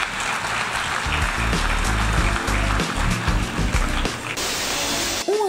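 An audience applauds Brazilian president Lula at the United Nations, a dense, continuous clapping that lasts several seconds before dropping away, with a brief voice at the very end.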